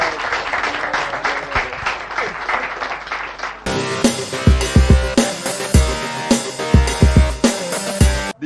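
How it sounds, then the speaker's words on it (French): An audience applauds a performer at a lively show, sustained clapping that swells louder after a few seconds, with a musical backing under the claps and sharp thumps mixed in. "Applaudissez pour Tasma."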